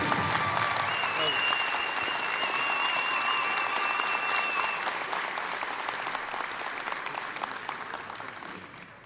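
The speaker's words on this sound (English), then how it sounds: "Great round of applause" A crowd at a ceremony in Providence honoring World Series MVP Jeremy Peña applauds steadily, with a whistle or cheer cutting through early on before the clapping gradually tapers off.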